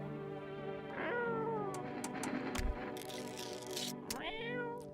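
A cat meows in the video game No, I'm Not A Human, two drawn-out, wavering meows, one near the start and one near the end, close and clear over a steady game background.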